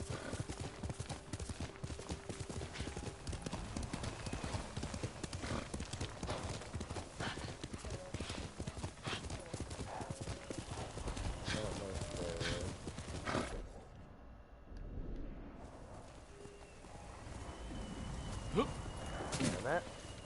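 Rhythmic clip-clop of a horse's hooves at a quick pace in the video game Ghost of Tsushima, steady and close, with a brief snort or whinny near the end; the hoofbeats dip quiet for a moment midway.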